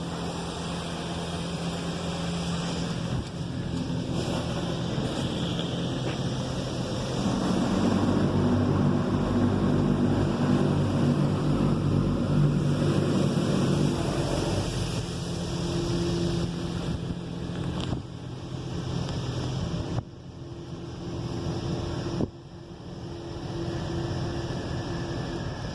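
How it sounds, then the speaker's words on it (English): High-pressure rinse spraying at an Oasis XP automatic car wash, a steady loud rush of water jets blasting against a car, swelling and shifting as the spray arms move, with no talk. "Here goes our high pressure rinse."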